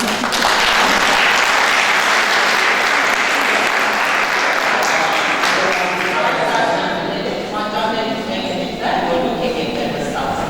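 Sustained applause from an audience at a school programme's closing event, loud and continuous throughout, with a few voices mixed in under the clapping.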